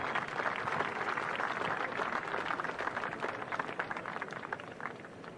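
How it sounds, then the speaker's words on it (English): Golf patrons at the Masters Tournament applaud a shot, a steady, distant wash of clapping from a spread-out crowd lasting throughout, with no talk over it. "He can only go by the applause of the patrons."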